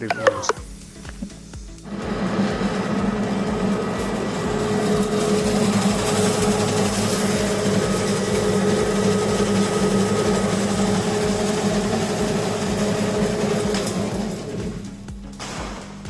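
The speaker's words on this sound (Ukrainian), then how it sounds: "Зараз будемо знімати відео нарізка сушоного гриба на мілку фракцію 5 мм." An STvega Dicer H400 industrial dicing machine runs steadily while cutting dried mushrooms into 5 mm pieces, a continuous mechanical hum and whir starting after two seconds and holding evenly for about twelve seconds before stopping.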